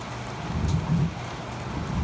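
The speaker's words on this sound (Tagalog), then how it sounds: "Ganyan talaga ang panahon. Umuulan." Steady rain falls in a continuous low wash with a faint patter, filling the background on its own at moderate level.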